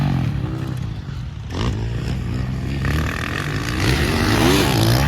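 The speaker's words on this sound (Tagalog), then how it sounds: "John Philip Bibilio, power kayo yung motor" Motocross motorcycle engines revving hard during an expert pro heat at a race competition, a steady loud drone with rising and falling pitch as bikes accelerate, with crowd and track noise mixed in.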